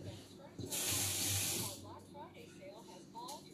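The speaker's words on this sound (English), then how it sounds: "I'm just going to rinse my hands off." Running water from a kitchen tap splashes over hands for about a second, a loud steady hiss that then fades, with faint voices and background noise around it.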